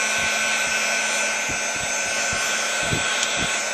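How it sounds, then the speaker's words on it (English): Heat gun blowing hot air over a foil-backed craft piece, a steady loud rushing whir held throughout the clip with faint handling knocks underneath. "I dry this with my heat gun."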